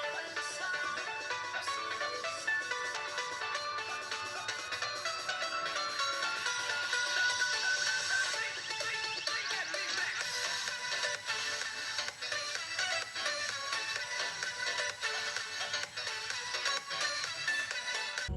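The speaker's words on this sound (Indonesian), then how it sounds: "Kualitas speaker HP ini bisa kamu nilai sendiri." A Realme 5i smartphone's single speaker plays audio at steady volume for the whole stretch, sounding thin and tinny with no one talking over it.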